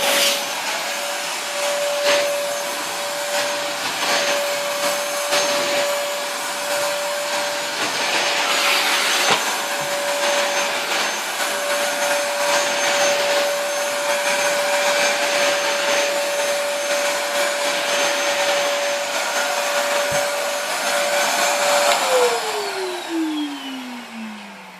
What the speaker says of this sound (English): it makes that cheap motor sound